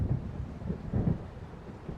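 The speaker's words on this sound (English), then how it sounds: "It seems there's a storm coming" Low, rolling storm thunder in the video game Alan Wake, a deep continuous rumble with swelling peaks and no clear sharp crack, heard alone with no voices.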